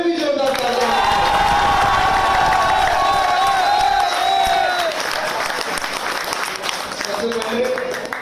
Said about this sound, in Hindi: इन चारों के कोचेस और उनके पेरेंट्स के लिए एक बार इससे भी जोरदार तालियां